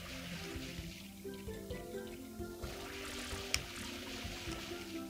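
Water sprays steadily from the water pack in the Super Mario Sunshine video game, a continuous hissing gush that runs throughout under layered game music, with no speech.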